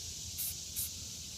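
Two short hissing bursts of spray paint aimed through pine needles onto a small 10-foot jon boat during camouflage painting, quiet and close with a pause between them.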